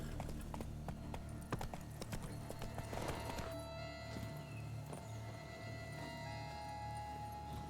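Horse hooves clip-clop at a steady walking pace in the video game Witcher 3, close and rhythmic, with a brief whinny partway through and some faint background ambience.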